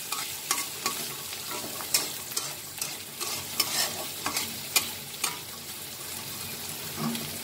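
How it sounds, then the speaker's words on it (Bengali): Onion and garlic frying in a pan, being lightly browned, a soft sizzle under repeated spatula scrapes and taps in a loose rhythm, fairly quiet and close with no talk. "পেঁয়াজ রসুনটা একটু ভালো করে পুড়িয়ে নেব"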